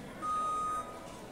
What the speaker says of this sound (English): It makes a beeping noise too.